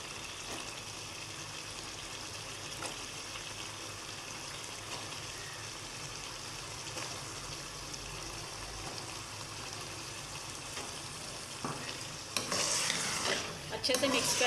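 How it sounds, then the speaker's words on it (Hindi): Peas going into potatoes frying in a pan for aloo matar, a steady low sizzle under stirring, with a louder rush of crackling and scraping as the peas drop in near the end. "अब हम इसके अंदर मटर ऐड करेंगे।"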